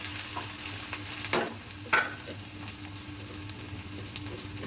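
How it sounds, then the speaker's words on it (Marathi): Chopped onion frying in a hot pan while cooking eggs, a steady soft sizzle with two sharp clattering stirs or drops near the start, fairly close and moderately quiet, no talking. "आता कांदा टाकायचा का चक्कन कांदा टाकायचा. मस्त फ्राय करून द्यायला कांदा याला"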